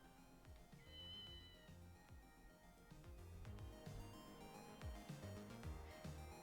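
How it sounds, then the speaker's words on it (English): A cat meows in the video game Ghost Trick, a few short high mews set against looping tonal game music with thumping low notes, fairly quiet overall. "Kitty cat?"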